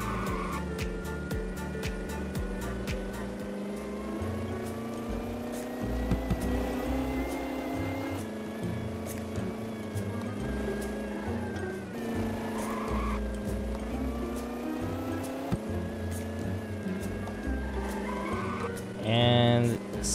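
An Apollo car races in the Roblox Dealership Tycoon game, with a loud engine droning and rising through gear shifts and tire squeals, constant over twenty seconds, while people talk over it.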